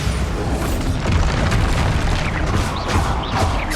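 A Bombarda spell explodes in Hogwarts Legacy, producing a loud, continuous roaring boom with crumbling debris textures that fills the whole moment without pause.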